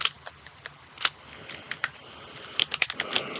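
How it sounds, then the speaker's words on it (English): Computer keyboard typing up close, a few scattered key clicks early, then a quick cluster of sharp taps toward the end, set against a quiet room with no talking. "Okay, I can type."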